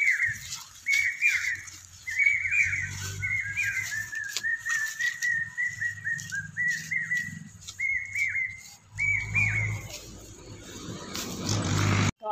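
Rose-ringed parakeets call in a garden of tamarind trees, giving bursts of shrill, whistling chirps in repeated runs over a quiet outdoor background, with low rumbles underneath now and then.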